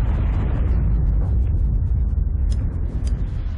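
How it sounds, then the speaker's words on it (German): A deep mine explosion in the video game Sniper Ghost Warrior 2 rumbles heavily and rolls on, with sharp pops and ticks scattered over the low roar near the end. "Wir hauen rein, sobald die Minen hochgehen."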